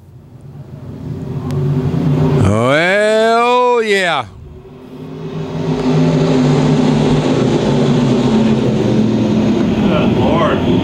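USMTS stock cars race on the Lakeside speedway, engines roaring loudly as a car sweeps past with a sharp rising-then-falling pitch, followed by a sustained pack roar; a commentator briefly talks over the noise.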